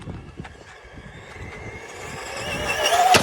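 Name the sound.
Team Corally Spark 6S RC car accelerating into a jump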